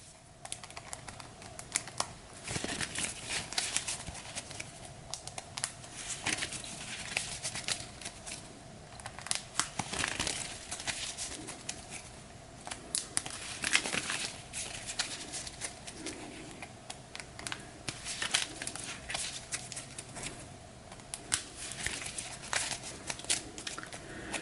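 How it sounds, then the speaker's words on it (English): A deck of cards for the Arkham Horror board game is shuffled steadily at close range, with a continuous run of soft riffling and patting bursts and no talking. "So we'll give this another quick shuffle for George."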